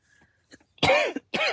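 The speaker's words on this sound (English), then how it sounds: "Now I'm going to start to cough" Two sharp, close coughs after a few faint quiet sounds, each a rough burst with a brief gap between them.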